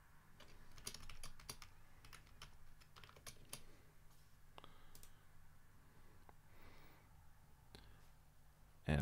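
Keys clatter on a computer keyboard as a password is typed, quick irregular bursts of clicks close by, with pauses between short runs and a louder knock at the end.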